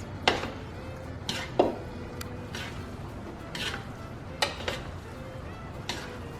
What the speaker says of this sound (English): And then we're going to give it a good mix.